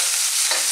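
Ox tripe for Filipino callos being stirred as it fries in a pan, a steady close hiss of sizzling with soft scraping throughout the short moment.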